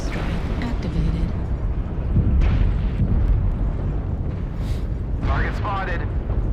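Airstrike explosions in a mech combat video game rumble as a continuous heavy, booming roar with deep low-end blasts throughout, while a voice talks over the din.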